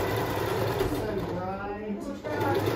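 A sewing machine runs steadily while stitching a ribbon skirt, a continuous close mechanical whir beneath a person talking.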